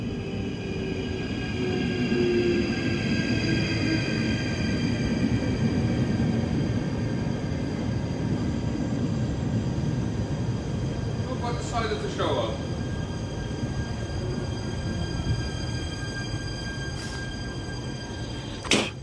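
A Keolis passenger train arrives, a steady low rumble and rolling noise running throughout with faint squeals and a brief clatter near the end, while a voice talks over it.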